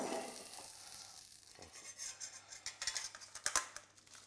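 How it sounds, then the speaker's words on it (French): Shrimp sauce poured and pressed through a chinois strainer with a ladle in a kitchen, giving soft liquid swishes and scraping, then sharper metallic clinks toward the end. "La sauce, justement, on va la passer au chinois"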